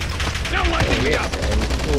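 Rapid bursts of automatic gunfire in the video game Call of Duty: Modern Warfare crackle in quick succession, loud and continuous over a low rumbling game soundscape.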